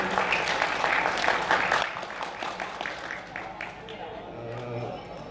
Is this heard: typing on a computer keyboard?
no